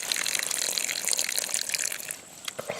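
Clean spring water flows and splashes steadily from a spring outdoors, a loud, close, continuous gush with a few drips at the end.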